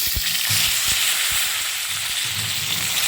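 Sliced onion added to potatoes frying in oil in a pan, giving a loud, steady, close sizzle that fills the whole moment, with soft knocks and stirring underneath.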